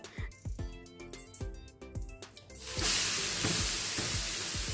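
Several clinks and taps on a pan give way to a sudden loud, sustained sizzle as dosa batter hits the hot pan, with a few more light clanks continuing under the frying hiss.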